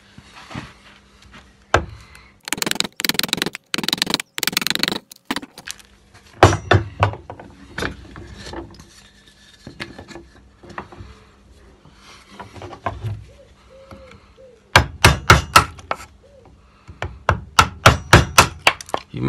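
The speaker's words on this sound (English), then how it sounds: "I'm just going to continue using my chisel and my mallet just to flatten this off" A wooden mallet drives a chisel to flatten a tee halving joint in wood, heard as loud bursts of rapid, sharp knocks separated by short pauses, with no talk over them.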